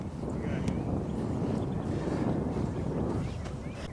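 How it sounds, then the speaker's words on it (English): Wind blows on a golf course, a steady low rumbling buffet against the microphone lasting several seconds with no clear talk over it. "The wind's in our face, so it's countering it."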